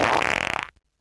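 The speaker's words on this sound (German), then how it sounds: "Sie haben gefurzt" A single long, loud fart, sustained and sputtering for most of a second, then breaking into rapid flutters before it cuts off into silence.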